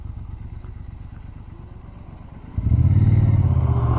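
A loud, noisy boy racer's car roars past a rider on a 1200-engine bobber motorcycle, its engine note swelling abruptly over the bike's steady low idle and staying loud to the end.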